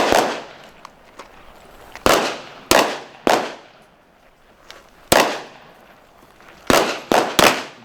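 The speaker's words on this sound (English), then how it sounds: "firing the weapon from the ground" Gunshots fired from the prone position at the Sig Sauer Academy: about seven sharp, loud reports spaced irregularly, some in quick pairs, each followed by a short ringing decay over faint background noise.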